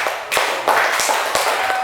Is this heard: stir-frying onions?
no